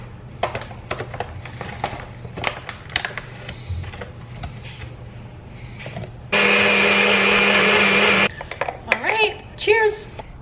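A blender whirs loudly for about two seconds as it purees a cherry berry fruit blend with almond milk and a touch of peanut butter, preceded by kitchen clatter and tapping and followed by a voice speaking.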